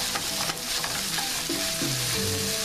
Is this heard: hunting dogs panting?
no